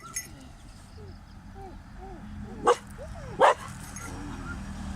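Nearby stray dogs in Thailand whine and yip in high, rising cries, then let out two sharp barks over a steady background hum.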